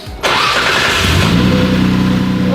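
A car engine cranks briefly and fires, then settles into a loud, steady running idle close by, apparently needing a retune on the dyno.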